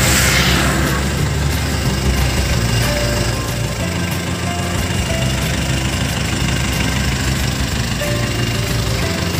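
A Panther diesel engine idles on a two-carriage tourist road train, a steady rough rumble with faint knocking, close and continuous, with no talk over it.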